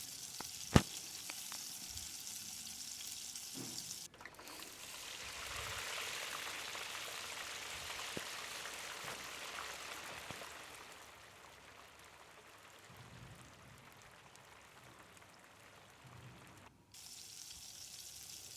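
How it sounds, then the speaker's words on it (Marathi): Pieces of alu vadi deep-frying in hot oil give a steady, quiet sizzle. It swells into a louder, fuller hiss for several seconds, then settles back to a softer bubbling with a few faint knocks. "त्याच्यात वड्यांचे तुकडे टाकून तळून घेऊया"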